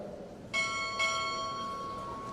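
A ship's bell is struck two bells, a quick pair of bright metallic strikes that ring on and fade slowly, heard alone against a quiet hall at a Recruit Training Command Chief Petty Officer pinning ceremony as each chief arrives.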